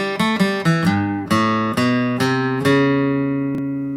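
A clean guitar plays a quick intro lick of plucked notes from a song, then a short run of single notes that ring out and fade; no one speaks.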